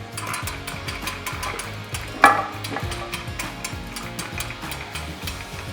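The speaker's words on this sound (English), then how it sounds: "And our davit crane has a friction winch on it," A friction winch on a davit crane lifts the drive assembly of a PVP double disc pump, giving a steady run of close ratcheting clicks and gear chatter with one sharper knock partway through.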